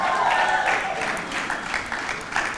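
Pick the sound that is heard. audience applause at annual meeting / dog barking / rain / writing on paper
audience applause at annual meeting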